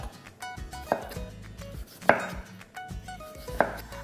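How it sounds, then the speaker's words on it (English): A knife slices a potato into thin slices on a cutting board, making crisp, evenly spaced chops that land close and fairly sharp, with no one talking. "Here I have some potato, which I'm going to cut into thin slices"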